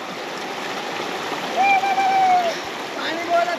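Fast-flowing stream water rushes steadily at Borail Eco Park near Silchar, Assam, a close, continuous churning wash with occasional brighter splashes and gurgles, no voices audible over it.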